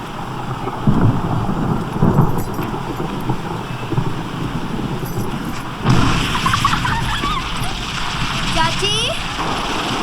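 Steady rain with low rumbles of thunder, while a voice and other speech come and go over the downpour.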